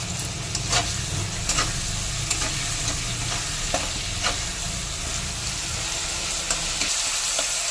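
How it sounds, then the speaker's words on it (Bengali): Chopped tomatoes frying with salt in a pan: a continuous close sizzle with periodic scraping strokes as the pieces are stirred, steady and fairly loud without talk. "টমেটো ভাজা হয়ে গেছে,"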